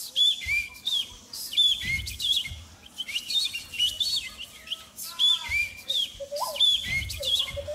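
A beatboxer imitates birds with bright chirpy tweets and whistles, repeating in bursts over low thumping beats on a loopstation, close and fairly loud.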